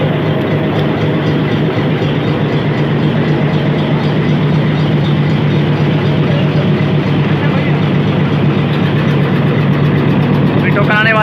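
A heavy diesel locomotive engine from the Kundian locomotive shed idling at a railway station, a loud, steady low rumble throughout, with someone talking over it.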